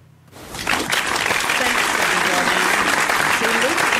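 Applause played from a button starts after a brief quiet moment and swells into steady, dense clapping that continues to the end, with voices talking faintly underneath.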